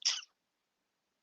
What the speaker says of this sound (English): Just excuse my cat behind me.